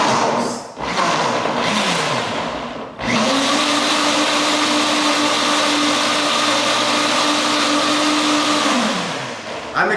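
A blender whirs through a fruit smoothie, loud and close, with a brief dip and restart before a long steady high whine that holds to the end.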